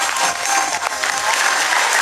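Audience at an elephant show at Sriracha Tiger Zoo breaks into dense, loud applause, a steady wash of clapping from a crowd that fills the whole moment.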